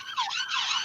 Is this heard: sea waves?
no